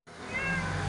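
A single drawn-out cat meow starts abruptly and holds steady, close and fairly clear against a light background hum.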